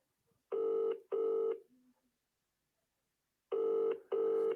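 Telephone keypad tones dialing a call, two short beeps, a pause of silence, then two more identical beeps, clear and close in an otherwise quiet room.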